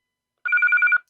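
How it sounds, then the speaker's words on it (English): Alarm tone from a BF-OG200 analog portable radio, one short burst of rapid, evenly pulsed beeps lasting about half a second, clear and close, after a moment of silence. "if you want to transmit in an alarm tone or notification tone"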